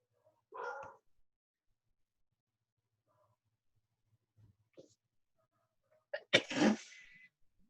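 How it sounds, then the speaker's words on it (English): A sneeze bursts out near the end during an online meeting, loud and close, after a brief voice earlier and a few faint small noises. "Okay, I'm done sneezing."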